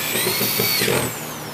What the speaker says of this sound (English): we just need to take some deck screws and attach the stakes to the planter box itself.